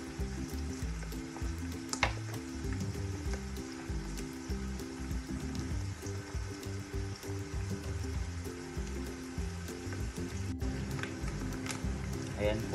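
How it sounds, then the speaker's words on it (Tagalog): Onions sauté in a pan for chicken afritada, a soft, steady sizzle running beneath a person talking nearby. "lutuin muna natin ang ating sibuyas bago ilagay ang bawang"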